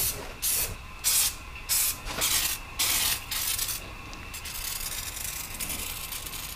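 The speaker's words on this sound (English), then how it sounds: "we're going to use some of this Gorilla Spray adhesive" Several short hissing bursts from an aerosol can of Gorilla spray adhesive, each about half a second, in an irregular series, close by, then a quieter lingering hiss.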